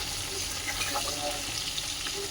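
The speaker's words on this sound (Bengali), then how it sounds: "হেঁচড়টা এখন ভেজে নিচ্ছি খুব ভালো করে ভাজতে হবে" Parboiled jackfruit (hechor) frying in a pan for biryani, a dense steady sizzle close up with faint stirring, no voices.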